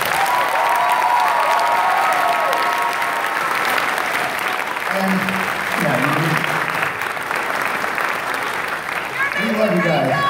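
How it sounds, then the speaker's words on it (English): Convention audience at Tokyo in Tulsa, Cox Business Center in Oklahoma, giving sustained, dense applause for about ten seconds, with a voice speaking over it at times. "let's give them a big round of applause."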